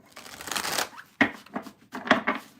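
Tarot cards are shuffled by hand in a few quick riffling bursts and taps, close and crisp, with short pauses between the passes and no talking.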